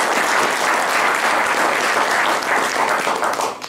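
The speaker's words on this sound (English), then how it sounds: "if I could get a round of applause for my panel today" A seated audience gives steady, dense applause for a panel at a ranger storytelling event, loud and continuous throughout before tapering slightly at the very end.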